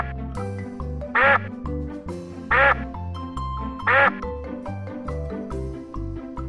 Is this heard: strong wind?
no